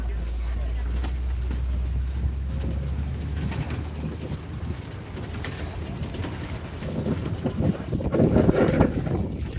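Wind buffets the microphone at a safari park among giraffes in a constant low roar, gusting stronger toward the end, with distant faint sounds underneath.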